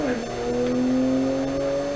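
A BMW 1M at a sprint race event runs with a steady, droning engine tone that holds fairly level and close, with a faint voice underneath.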